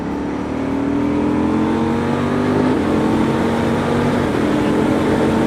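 A KTM Duke 790 from 2018 pulls hard in fourth gear, its engine note a steady loud drone that climbs gradually in pitch through the whole stretch, close and continuous with wind rush underneath.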